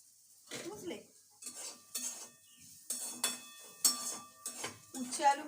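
Bitter gourd and potato frying crisp in a pan, heard as repeated clinks and scrapes of a spatula stirring against the metal, in short bursts with a faint sizzle and a voice talking.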